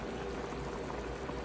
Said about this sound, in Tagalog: Kumulo na, nilagyan natin ng tubig.